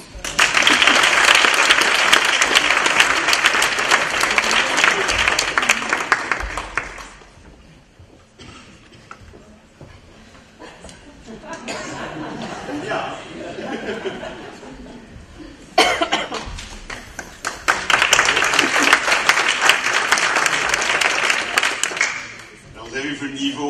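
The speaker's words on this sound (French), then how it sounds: "Je vous demande d'applaudir maintenant pour la remise du TIL d'argent" Audience applause fills a conference hall during an award ceremony, loud dense clapping for about seven seconds, a quieter stretch with murmuring and coughs, then another strong burst of clapping before it fades.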